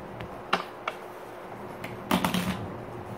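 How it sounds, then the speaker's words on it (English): A few quick riffling bursts of a shuffled poker deck, with short card slaps before them, close and fairly quiet, during a magic lesson. "I'm going to shuffle it."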